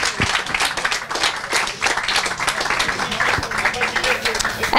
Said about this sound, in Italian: Un grande applauso per Gianluca Marsili.